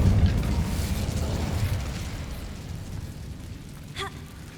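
An Incendio fire spell bursts in Hogwarts Legacy, a loud whooshing blast of roaring flame with a heavy low rumble that slowly fades, followed near the end by a brief faint chime.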